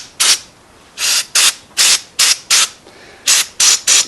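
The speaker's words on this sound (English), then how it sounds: "You'd be amazed at how much stuff brake clean will dissolve" Brake cleaner sprays onto a generator part in short, loud hissing bursts, about nine separate blasts of varying length with brief pauses between them.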